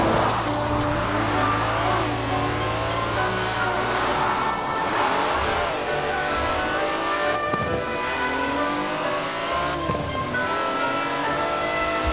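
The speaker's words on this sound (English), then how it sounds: "That's a 90-year-old racing car. It's going to take some handling." A 90-year-old Aston Martin racing car drives in Forza Horizon 4, its engine droning and revving through gear changes, with pitch sweeping up and down over steady road noise and occasional tire sounds, loud and close throughout.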